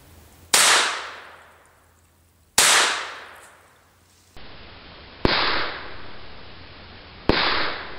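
.22 Long Rifle gunshots fired at a steel toe boot, four sharp separate cracks spaced a couple of seconds apart, each trailing into a decaying ring.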